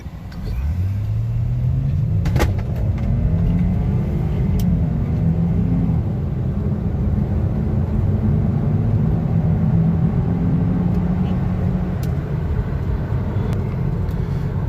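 A Mercedes GLK 350 4matic accelerates hard from a standstill toward 100 km/h, engine note climbing steadily through the gears under loud cabin rumble and road noise, heard from inside the car.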